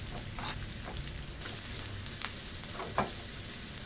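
Garlic stir-frying in hot oil in a pan, a close, steady sizzle with occasional light pops and spatula scrapes, no voices.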